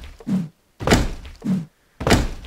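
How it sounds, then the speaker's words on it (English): Four heavy, booming thuds at a steady pace as a door is rammed repeatedly in the video game Rust, loud and close, each blow with a dull wooden boom. "Let's see how long it takes to bust down this door here."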